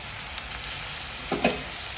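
Steady sizzling of prawns frying in oil in a pan, as for a Bengali prawn bhuna, close and continuous, with a brief louder stir or clatter near the end.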